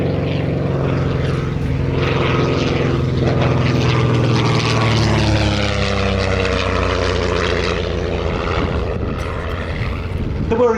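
Vintage propeller aeroplane engine at the Shuttleworth airshow, a loud continuous droning roar with a shifting pitch as the aircraft passes, with a voice speaking faintly underneath.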